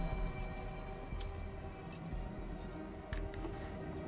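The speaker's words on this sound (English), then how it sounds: "Why do they have jailer's keys like it's the Old West?" Jailer's keys in The Quarry jangle in short metallic clinks and rattles, a few scattered bursts over a low ambient rumble.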